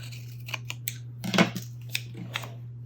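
Scissors snipping through paper for collage, several short close cuts spaced irregularly with a brief flurry of quicker snips midway, over a steady low electrical hum, no voices.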